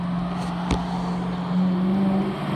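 A car with a deep exhaust tone passing at a drag race strip, a steady low rumble heard at moderate distance that swells slightly partway through, with no talk.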